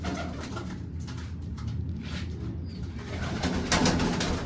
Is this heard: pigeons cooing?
yes